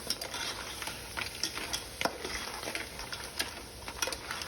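Cleaned crabs are stirred into frying masala in a pot for a spicy crab curry, giving a soft sizzle with scattered light scrapes and clinks of the spoon, fairly quiet and close.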